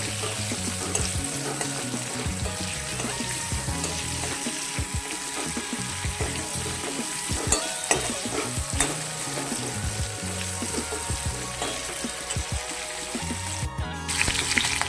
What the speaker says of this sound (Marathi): याच्यामध्ये शिमला मिरची घालायची. चांगली फ्राय करून घ्यायची.